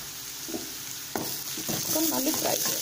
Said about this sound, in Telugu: చూసారా, మనకు ఆనియన్స్ చక్కగా ఫ్రై అవుతున్నాయి కదా.